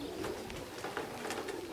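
Racing pigeons cooing at the loft on their return from a race, soft low coos repeating a few times close by over a steady background hum, with no voices.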